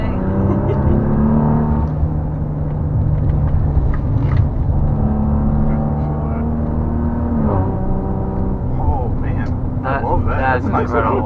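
A Maserati SUV drives past with a deep, rumbling exhaust note as it revs and shifts through the gears via paddle shifters, loud and steady, with a voice talking over the engine.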